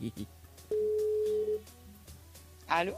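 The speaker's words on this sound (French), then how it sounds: "deuxième fois on appelle Vanessa sur le standard" A single telephone ringing tone sounds on a call line to a radio show listener, cut short among brief snatches of nearby talk.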